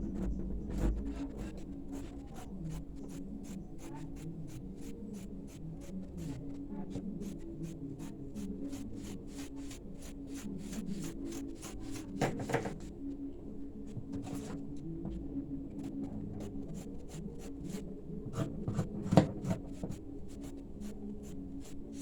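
Scissors snip through fabric while a mermaid skirt is cut out freehand, giving steady repeated crisp cuts close by over a low constant background hum; no talking.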